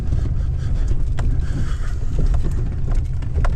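A big dump truck, running in four-wheel drive, rolls into a dirt dump site over soft ground, giving a steady, loud engine rumble with heavy low-end noise and wind buffeting the mic, and no voices.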